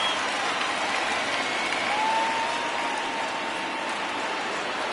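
A home crowd at a Reds baseball game at Great American Ballpark keeps up a steady, broad roar of cheering and applause through the eighth inning, dense and continuous without clear breaks.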